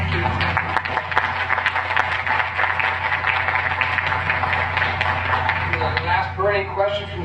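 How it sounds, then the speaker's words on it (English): Audience applause at a United Nations Association event, sustained crowd clapping under a steady low hum, with voices emerging toward the end. "all of you deserve a round of applause"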